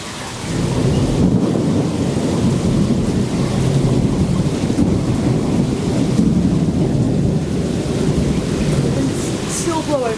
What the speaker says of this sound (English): this is a massive thunderstorm right over us right now